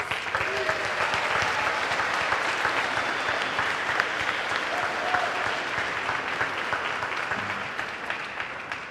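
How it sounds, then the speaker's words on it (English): Warm, sustained applause from an audience honoring performers at an evening spring soiree, many hands clapping steadily at moderate loudness for several seconds, with faint crowd murmur beneath. "Can we give them one more round of applause?"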